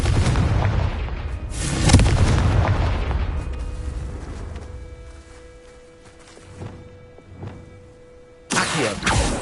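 A Confringo explosion spell bursts in a video game, a loud boom near the two-second mark trailing into a rumbling decay, followed by quieter magical effects and a second sharp blast near the end.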